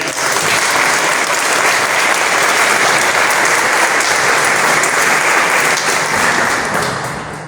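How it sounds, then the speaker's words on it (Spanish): An audience at a public talk and conversation event gives sustained, dense applause that stays loud and even, then begins to fade at the end. "Pido un aplauso."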